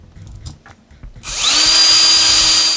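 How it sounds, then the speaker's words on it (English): A power screwdriver drives screws into parts of a Team C TS2 short course RC truck, preceded by a few light handling clicks, then a loud, steady whirring whine that runs continuously to the end. "Just put a couple screws on the front and that will lock that down for now."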